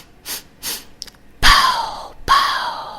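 Three short, quick sniffs in through the nose, followed by two forceful breathy puffs out, close and clear with no talking.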